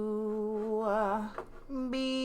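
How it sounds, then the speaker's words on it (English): Menu music from a racing video game, a sustained melodic tone with wavering vibrato, a short break near the middle, then a new held note, steady and moderately loud with no talking over it. "That's the menu music, in case you didn't know"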